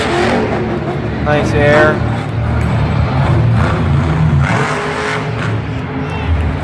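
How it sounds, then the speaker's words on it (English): A monster truck engine revving hard at a Monster Jam event in Santa Clara, a loud sustained roar under an arena commentator's excited voice. "revving that truck to the extreme"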